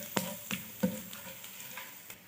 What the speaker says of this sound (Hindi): इसको इतना फ्राई करेंगे कि खुशबू इसमें से आने लगे।